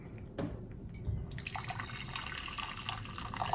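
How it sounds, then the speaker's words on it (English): Water is poured into three pans while making natural colors, with liquid splashing and trickling after an initial knock, the pouring growing brighter and fuller toward the end. "So now we are going to pour water for these 3 colors in 3 pans."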